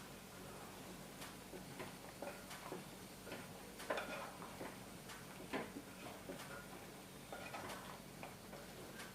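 Ash gourd and prawn curry stirred in a pot, a soft, faint spoon scraping and tapping in irregular strokes with a quiet background hum.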